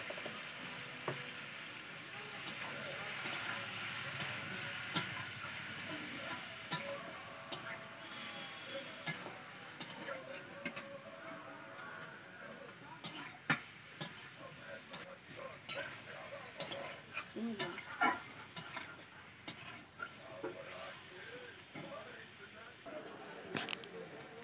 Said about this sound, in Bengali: মাংসটা একটু ভেজে নিলাম